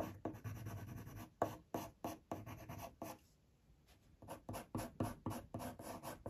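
Coloured pencil strokes on paper while shading fur with light to medium pressure: close, soft scratchy rasps in rapid repeated bursts, a brief pause midway, then more quick back-and-forth strokes.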